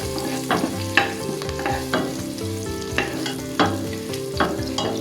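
Cinnamon bark, cardamom and curry leaves sizzle in hot oil with garlic while a spoon stirs and scrapes the pan in repeated strokes, steady frying underneath, with music playing along throughout.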